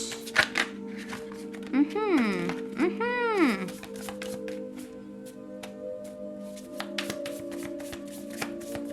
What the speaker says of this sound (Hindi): ठीक है, शफल कर लेते हैं ऑप्शन 3 के लिए।